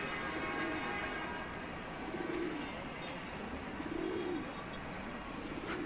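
Pigeons at a Tanta loft coo in repeated soft, low rounded phrases, several calls spaced a second or two apart over a steady background hum and faint chirps.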